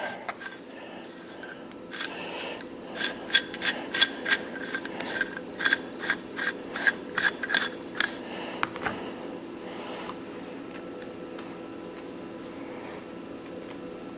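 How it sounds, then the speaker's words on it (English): A metal collar on a matrix puller is worked loose with a string of rhythmic ratcheting clicks and scraping metallic strokes, close and clear in a quiet room, then tapering into a faint rubbing. "Get this collar loosened up here a second."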